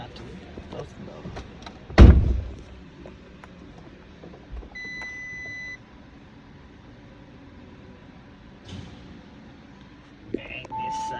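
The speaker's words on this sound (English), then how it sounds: "Close the door." A single sharp thud rings out as the door of an Audi e-tron GT electric car closes, followed by quiet cabin ambience with a brief electronic beep and a soft clunk later on.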